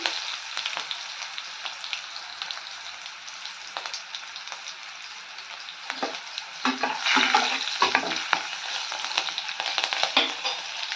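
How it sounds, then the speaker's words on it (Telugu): Mustard seeds, cumin, curry leaves and turmeric frying in hot oil for a Chittoor-style tamarind dish, a steady close sizzle with crackles and stirring scrapes swelling louder toward the end, no voices. "ఆవాలు జీలకర్ర కరివేపాకు వేసి అందులోనే పసుపు వేసుకొని బాగా ఏగనివ్వాలండి"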